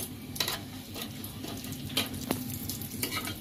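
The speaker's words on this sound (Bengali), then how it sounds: "একটু আমি জিরেটা লঙ্কাটা একটু ভেজে নিয়েছি" Whole cumin seeds and a halved dried red chilli frying lightly in a pan: a soft, steady sizzle with a few small crackles and stirring clicks, fairly quiet and with no talking.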